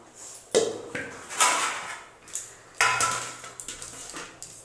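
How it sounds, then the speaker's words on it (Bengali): A knife chops cane shoot greens on a board, producing several sharp, close knocks at an irregular pace with short ringing tails and no speech. "আমি এখানে চাকুর সাহায্যে আমি এটা ফটাফট করে কেটে নিচ্ছি।"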